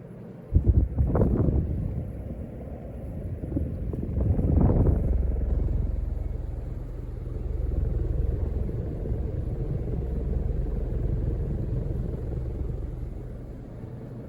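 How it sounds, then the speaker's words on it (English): A Casablanca Panama II ceiling fan spinning at speed 4, a steady low rumbling whoosh of moving air with a couple of brief knocks early on, close and continuous. "This fan is cranking out a ton of air."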